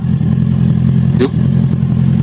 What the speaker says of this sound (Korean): 지금 또 뒤에 바이크 라이더 분이 계시네요